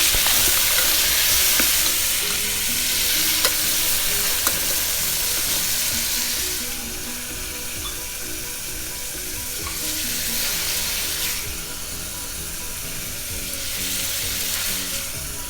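Carrots and beans fry and sizzle in a hot cooking vessel for a homemade sambhar, with a continuous hiss and scraping stirs, steady and close throughout.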